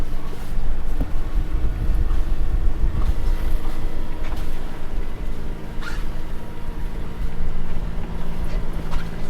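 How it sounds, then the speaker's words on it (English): Loud, steady wind roars against the microphone aboard a sailing yacht underway off Scotland. The low rumble and buffeting continue throughout, with faint creaks and knocks from the boat and no speech. "there's certainly more wind than what there was yesterday"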